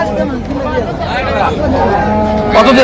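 Dairy cows and calves at a crowded Raniganj cattle market, with a cow mooing in long, drawn-out lowing calls close by over a background of crowd chatter and talking voices.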